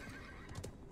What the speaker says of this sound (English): The horse can ride on mountains.